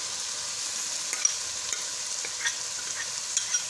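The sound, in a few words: tomatoes and onion added to frying chicken jalfrezi, sizzling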